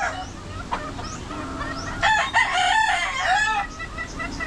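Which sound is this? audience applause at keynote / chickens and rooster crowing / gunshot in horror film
chickens and rooster crowing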